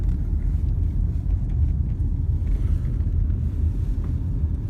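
A car rolling along a country road past a Douglas fir tree line toward a family farm in the Marcola Valley, Oregon, giving a steady, loud low rumble of engine and road noise with some wind buffeting on the microphone.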